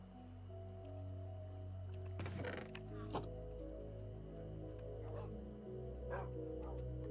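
Dogs in Minecraft on the 2b2t anarchy server give faint barks and whimpers over a steady low game background, with a few short yips scattered across the stretch.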